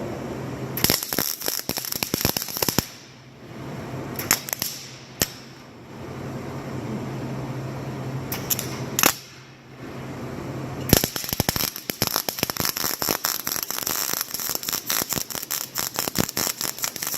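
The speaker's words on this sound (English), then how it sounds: "Bunch of crackle and pops, not a good weld." A MIG welder on a poorly set, bad weld spits out dense bursts of sharp crackles and pops, loud and close, broken by a few short pauses before another long crackling run.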